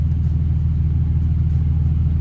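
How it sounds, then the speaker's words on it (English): A RAM 3500 pickup with a G56 manual gearbox and a new Centerforce twin-disc clutch drives along. A steady, loud low engine rumble runs throughout with no voices. "First drive with the truck."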